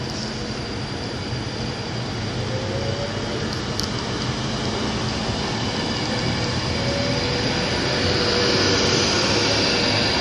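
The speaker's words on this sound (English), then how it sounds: "it's the slightly delayed 1916 Virgin Train service to London Euston via Warrington Bank Quay only" Delayed Virgin Trains passenger service to London Euston departing Wigan North Western station at night, a steady loud rumble of rolling wheels and engine noise building slightly toward the end.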